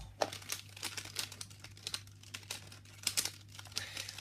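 A twisty puzzle cube being scrambled by hand, rapid plastic clicks and clatters of turning layers in quick irregular bursts, close and fairly loud, with a low steady hum underneath.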